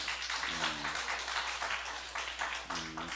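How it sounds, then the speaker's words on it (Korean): A church congregation claps together during Sunday worship, a soft, fairly distant patter of many hands, with brief voices in the background. "우리 우선 시험 치른 고3 자녀들을 위해서 박수 한번 치고요."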